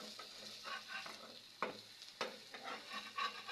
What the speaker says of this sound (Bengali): তো আমি একে একে বেগুনগুলো খুব সুন্দর করে ভেজে নেব।